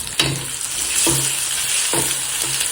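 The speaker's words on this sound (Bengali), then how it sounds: "ডিম ভাজি করছি, দেখতে পাচ্ছেন" An egg fries in a pan for the predawn Ramadan meal, with loud continuous sizzling close by and several scraping stirs at regular intervals.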